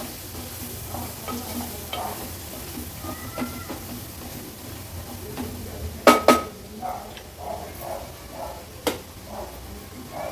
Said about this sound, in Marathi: हळद आणि मसाला तेलावर छान परतून घ्यायचे।